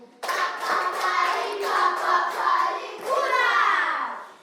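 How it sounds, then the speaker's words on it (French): A group of children clapping hands together in a classroom, a steady, dense patter of claps lasting several seconds with a short dip near the end before fading out. "Applaudissez pour vous."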